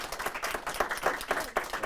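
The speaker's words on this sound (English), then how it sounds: "So let's give Haley a round of applause" Audience at a City of Albuquerque mayoral news conference applauds, a steady patter of many hands clapping at moderate volume throughout with no one talking over it.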